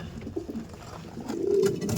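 A pair of racing pigeons in a loft coo softly and close by, with low rolling coos building louder toward the end.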